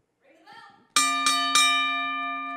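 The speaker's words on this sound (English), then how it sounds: "You can ring the bell." Three loud struck bell rings, close and evenly spaced, each with a long ringing tail, following a brief stretch of voices in a match setting.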